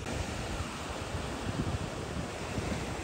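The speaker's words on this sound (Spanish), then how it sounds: "el oleaje es un poco menos intenso, un poco menos fuerte que Cicatela" Ocean waves breaking on a surf beach at Puerto Escondido, heard as a steady, loud wash of surf with low rumbling and wind noise throughout, no voices.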